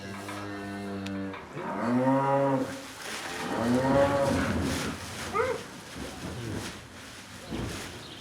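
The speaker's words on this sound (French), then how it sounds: "son père ont fait appel en urgence à Xavier pour le vélage d'une jeune vache âgée de 3 ans." A three-year-old cow moos during a difficult calving, giving two long, deep, drawn-out lows followed by a shorter groaning call, heard close and clear over faint background noise.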